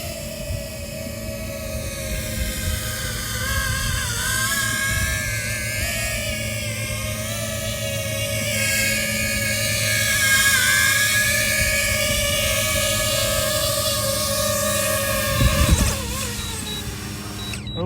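DJI FPV drone with a jet-style setup hovering over a lake, a loud steady high-pitched whine with sweeping tonal bands that drift up and down, ending in a brief louder burst near the end, with no talk.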